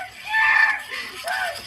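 A child screams in fear, a loud, shrill, wavering cry followed by a shorter rising wail, with no other voices over it.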